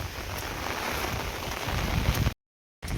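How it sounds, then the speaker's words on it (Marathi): Heavy rain still pouring down after damaging storms, a dense steady hiss and patter on surfaces, close and loud, broken by a short silent gap near the end before resuming. "पाऊस अजून पण बंद व्हायचं नाव नाही घेऊ राहिला"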